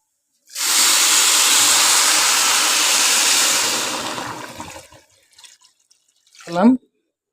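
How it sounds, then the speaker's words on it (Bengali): Water poured into a pot of fried rice and lentils for bhuna khichuri gives a loud, steady rushing gush and hiss for about four seconds, then tapers off, followed by a brief voice at the end. "এখন মুই এনে পানি দিয়ে দেব"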